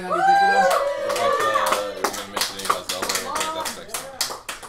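Sharp hand claps break in repeatedly over steady talking, coming in short irregular bursts beneath the voices.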